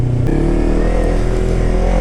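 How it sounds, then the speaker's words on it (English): A motorcycle engine revs hard and close in a city downtown, a loud rising and sustained roar over a couple of seconds. "We're trying to do MotoGP revs, F1 revs out here in downtown."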